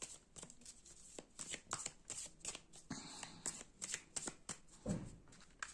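Belline oracle cards being shuffled by hand for a reading: a run of quick, crisp riffling clicks and papery flutters, close and fairly quiet, with no voice.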